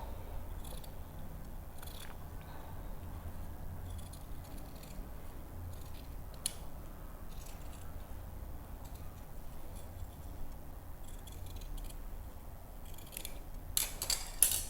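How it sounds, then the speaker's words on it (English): Scissors cutting out a paper neckline pattern for sewing, soft close snips spread through a quiet stretch, busier toward the end. "So all we would do now is just cut that out."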